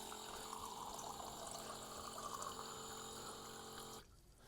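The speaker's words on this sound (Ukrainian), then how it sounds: "Швидкість набирання води дуже висока" An automatic water dispenser fills a 200 ml glass with a steady, close pump hum and rushing pour, then cuts off abruptly near the end.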